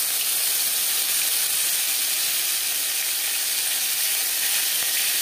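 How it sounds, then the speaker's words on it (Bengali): Panch phoron spices fry in hot oil in a wok, where potatoes were fried just before, giving a loud, steady sizzle and hiss throughout. "আলু ভেজে নেওয়া কড়াইতে আবারও তেল দিয়েছি, দিয়ে দিলাম 5 ফোড়ন।"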